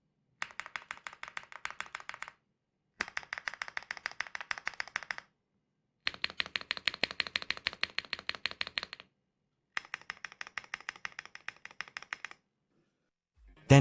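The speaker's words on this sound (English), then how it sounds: "Let's listen together to a mass-produced keyboard." Fast, crisp clacking of keys on a mass-produced mechanical keyboard in four steady bursts separated by brief pauses, close and clear, with no talking.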